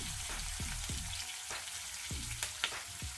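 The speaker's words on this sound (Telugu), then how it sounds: "ఈ ఉల్లిపాయలు కొంచెం దూరగా మనకు వేయించుకోవాలి." Onions and curry leaves fry in a pan for a masala dondakaya (ivy gourd) curry, giving a steady close sizzle with small pops and occasional stirring scrapes throughout.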